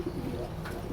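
A young female pigeon gives a soft, close, low coo, a single brief murmur that stands alone without any talk.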